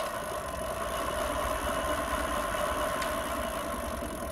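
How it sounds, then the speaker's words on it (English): A homemade electric bike motor powered by Dewalt and Milwaukee cordless tool batteries runs with a steady, even drone and whine, close and unbroken. "Turn it on and let's see if I can power my bike."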